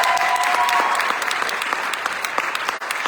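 Dense, loud applause from a concert audience for a baritone saxophone player at a college jazz band spring concert, a steady wash of clapping that thins slightly toward the end.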